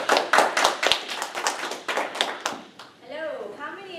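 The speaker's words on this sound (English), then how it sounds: "Let's give Mariah a warm round of applause." Scattered audience clapping for Mariah's persuasive speech, a few sharp claps over about three seconds before a single voice starts talking.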